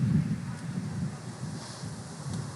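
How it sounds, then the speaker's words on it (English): Blustery wind on a cold night at an outdoor wiffleball field in Las Vegas, a steady low rumble buffeting the microphone with a few stronger gusts, heard alone without talk. "It is a blustery, windy, cold night."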